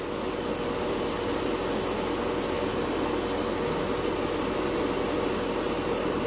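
Clear coat sprayed from an airbrush over Alclad chrome paint on a model, a steady close hiss in light repeated bursts with no talking.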